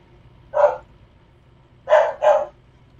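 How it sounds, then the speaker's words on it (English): Pet dog barking indoors, one sharp bark followed by a quick double bark about a second later, close and clear over a low background hum. "Oh, my silly dog."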